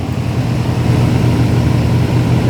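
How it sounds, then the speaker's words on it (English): A loud, steady whirring drone of an electric radiator fan blends with the low rumble of a truck's 454 engine, constant throughout and close up. "We got that fan running."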